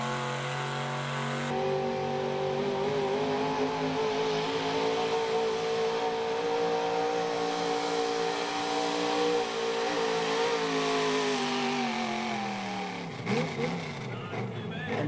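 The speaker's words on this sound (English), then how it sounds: "He calls this truck Black Betty, making the first official pass of the evening in the small block class." Black Betty, a small block pulling truck, revs hard through its pass at an East Coast Nationals truck and tractor pull, with the engine whining steadily for over ten seconds before dropping off. An announcer talks over it.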